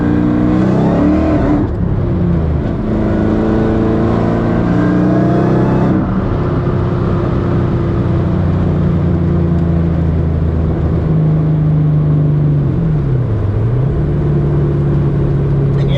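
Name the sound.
car engine revving while driving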